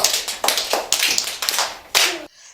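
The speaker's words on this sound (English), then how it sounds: "Clap for yourself." Several quick bursts of children clapping for themselves, with sharp, close rhythmic slaps in short rounds that stop abruptly.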